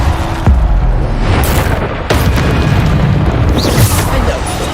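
Bombarda blast spells fired in Hogwarts Legacy gameplay, loud booming explosions bursting repeatedly amid continuous dense game effects and combat noise.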